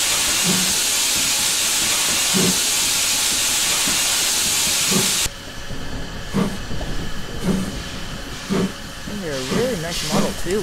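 Steam locomotive chuffing with rhythmic exhaust beats under heavy hissing steam, which stops halfway. Slower puffs and faint clanking continue, with a voice briefly audible.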